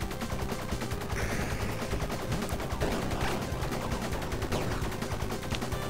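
Dual pistols firing at a very rapid rate in the game Bleed, a dense unbroken stream of sharp shots layered over busy game effects, loud and constant throughout.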